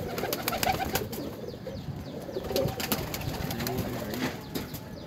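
Ferozpuri pigeons cooing, a pure-bred pair giving repeated soft, throaty coos with low rumbling calls, close and continuous with faint rustling.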